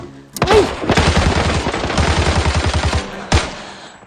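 A loud burst of rapid automatic gunfire in the Arena Breakout video game, a fast stream of close shots lasting a few seconds, followed by one more sharp report.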